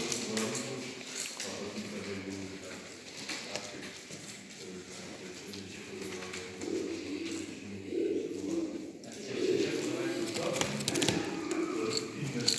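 Racing pigeons cooing at a pigeon show, low murmuring coos from many birds in a busy hall with people talking throughout.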